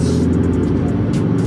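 A Changan car cruising on the road, with a steady close hum of engine and road noise that stays even and unbroken for the whole moment.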